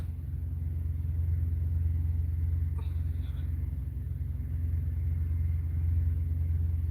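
Low steady rumble of a 2026 truck engine while driving, a constant deep drone with a brief faint higher tone in the middle, no voices over it.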